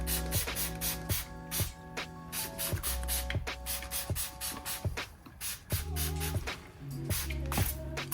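Iron fallout wheel cleaner is sprayed onto a car exhaust in a rapid series of short, sharp trigger-spray bursts, close and fairly loud, over a faint tonal background.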